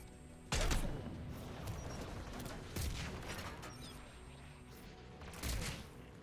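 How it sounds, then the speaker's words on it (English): AA guns fire in Mass Effect 3 as heavy booming bursts, three loud blasts spaced a few seconds apart over a constant rumbling, mechanical battle background. "AA guns ahead of us."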